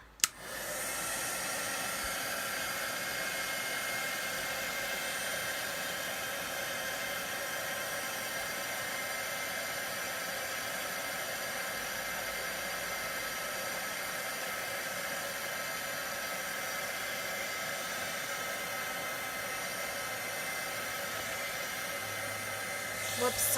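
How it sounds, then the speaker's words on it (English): Heat gun heat-setting embossing on a card, a constant close whooshing blow of hot air that runs steadily for over twenty seconds without a break. "so let's heat set this one more time and then we'll make the card"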